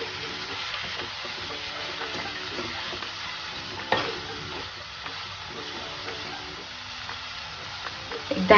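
Dal methi with vegetables cooking in a pan, salted and stirred, giving a steady soft sizzle and frying hiss throughout with occasional stirring clinks and a louder scrape near the end; no talking.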